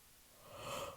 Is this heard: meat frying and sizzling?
no